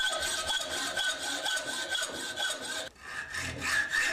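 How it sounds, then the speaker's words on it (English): A hacksaw cuts excess steel from a knife blank with steady back-and-forth strokes, a rasping, close grind with a brief pause before sawing picks up again. "cut away as much of the excess steel as possible using a hacksaw"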